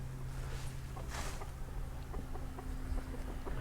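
Soft clucking from a few chickens, including a rooster, nearby on a tropical homestead, scattered short calls over a low steady hum in the background.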